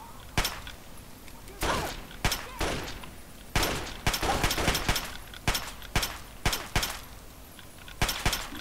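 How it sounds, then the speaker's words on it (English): Repeated gunshots from a shootout in Fallout 3, sharp cracks landing alone and in quick bursts, some single shots and some clustered volleys at steady loudness, with no talking. "Why are you all shooting me?"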